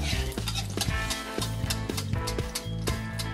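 Quail eggs frying in hot oil in a wok give a dense, steady sizzle. Quick scraping and clinking strokes of a utensil sit on top, close and continuous, with no speech.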